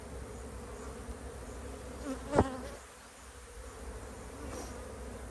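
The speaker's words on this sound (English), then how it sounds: "one full of bees" Honeybees at an apiary hive in a cow pasture drone in a steady, close buzzing hum, with a brief louder knock or thump partway through.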